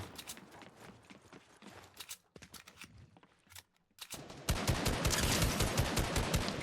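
Gunfire in a Fortnite match: scattered shots and short bursts at first, with brief gaps, then a loud, dense rapid-fire volley sustained over the last couple of seconds.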